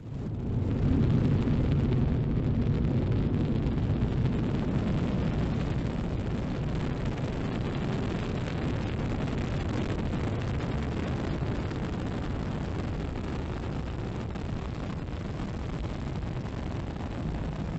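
A SpaceX rocket lifts off with a deep, continuous broadband roar. The rumble swells at the start and then holds steady and distant-sounding for the full length, with no voices.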